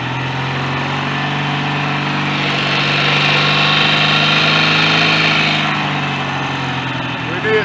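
A BSA A65 twin motorcycle engine held steady at about 3000 rpm during an oil pressure check, a loud continuous drone that swells slightly midway and then eases back.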